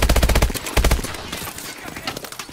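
Rapid automatic gunfire in the video game Call of Duty Advanced Warfare: two fast bursts of close, loud machine-gun shots, followed by scattered distant firing and noise.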